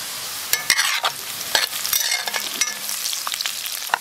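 Ginger, garlic, dried chilies, Sichuan pepper, star anise and bay leaves stir-fried in hot oil in a wok, with close scraping spatula strokes over a constant crackling sizzle, no voices.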